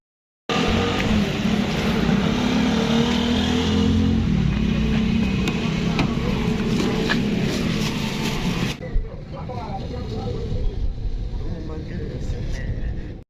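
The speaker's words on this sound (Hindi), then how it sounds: "अब बैठते हैं गाड़ी में और चलते हैं घर की तरफ" A car carrying people home from a bakery gives a steady, loud engine and road rumble from inside the cabin, dropping to a quieter hum partway through.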